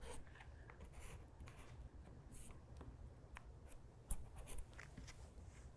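Pen drawing circles on fabric for a visible mending patch: faint, close scratchy strokes rubbing in short repeated sweeps over a quiet background, with no talking.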